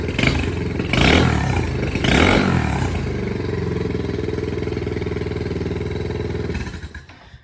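Turbocharged Honda 250 scooter engine, clutch removed, revving loudly up close in two sharp bursts, then settling into a steady, rapid, throbbing idle before cutting off at the end.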